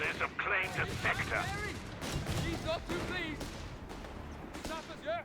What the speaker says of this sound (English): there goes sappers are being met with a full fusillade